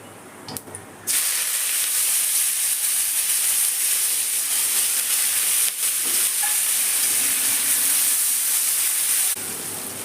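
A sudden, loud hiss of frying erupts as chopped onions hit hot oil, holding steady and crackling continuously for several seconds before easing slightly at the end.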